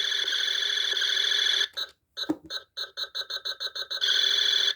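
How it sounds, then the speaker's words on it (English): A Thinkway Buzz Lightyear toy plays an electronic laser tone, a steady high buzzing, then a quick series of evenly pulsed beeps as the timer, before the continuous laser tone returns, close and clear. "So basically just the laser and then the timer before the laser."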